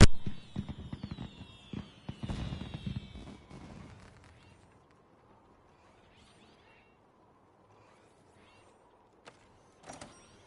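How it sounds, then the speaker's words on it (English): Fireworks in Monster Hunter World pop and crackle in a dense burst of sharp bangs for about four seconds, then fade to near silence with a few distant thuds near the end. "I wanna watch the fireworks"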